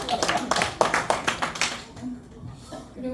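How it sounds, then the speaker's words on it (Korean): A reunion group of primary-school classmates bursts into applause, a burst of overlapping claps about two seconds long with laughter and chatter, then fading as talk resumes. "출세한 데 대해서 박수."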